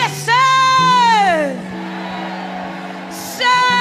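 Shouts ring out from a congregation during a worship service, with loud rising-and-falling whooping voices over a sustained tone, one long outcry followed by a pause and another shout at the end.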